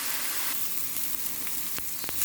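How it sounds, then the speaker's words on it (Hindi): Onions fry in a pan, giving a continuous close, bright sizzle with a few sharp crackles near the end, and no voice over it. "अनियन फ्राई हो रहे हैं"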